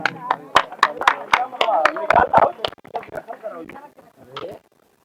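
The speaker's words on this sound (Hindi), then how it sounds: "तालियां जोरदार होनी चाहिए, जोरदार ताली बज जानी चाहिए।" Audience clapping at a Diwali community event in a ward of Farsad: sharp, distinct hand claps in a fairly quick, uneven rhythm, with people talking over them, tapering off and stopping before the end.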